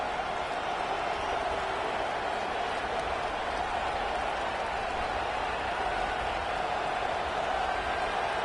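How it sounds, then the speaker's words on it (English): Dense, steady roar of a packed football stadium crowd at a Texas A&M versus Texas game, sustained loud cheering and noise from thousands of fans with no break. "Listen to this crowd."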